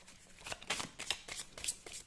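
Tarot cards being shuffled, drawn and handled at a reading table, a run of soft papery riffles and slaps in quick irregular bursts, fairly quiet and close, with no talking over them.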